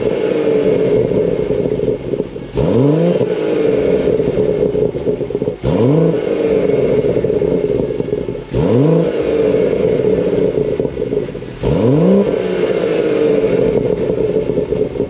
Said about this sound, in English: if you rev it from the outside, which I'll put a little clip of that in for you now.